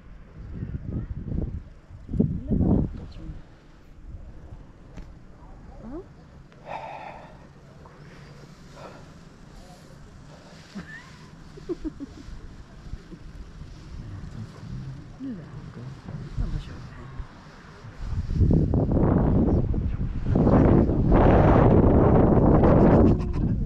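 Wind at the summit of Uludag near Bursa, Turkey, gusts against the microphone, rising to a loud, roaring buffet near the end, with voices heard in between.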